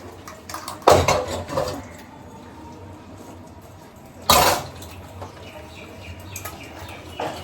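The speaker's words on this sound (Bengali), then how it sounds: "দুটো বাসন আছে, আমি ধুয়ে দিই।" Dishes being washed by hand at home, two loud clattering bursts of metal pots and utensils knocking together separated by quieter stretches of low background noise, with no talking.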